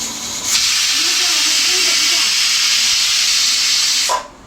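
A loud, steady hiss of escaping steam runs for several seconds, starting and stopping abruptly, with faint voices in the background.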